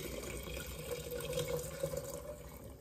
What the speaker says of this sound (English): we're gonna put that funnel in the second jar. And then we're just gonna pour this in.